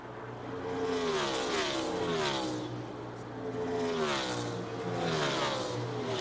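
NASCAR stock cars crossing the finish of the 2003 UAW-DaimlerChrysler 400, several loud engine roars sweeping past one after another with rising and falling pitch, the race engines alone with no talk.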